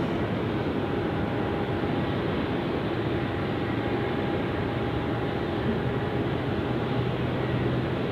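Airliner on its takeoff roll at Sydney Airport, a steady broadband engine roar with a faint whine, holding constant and fairly loud from start to finish.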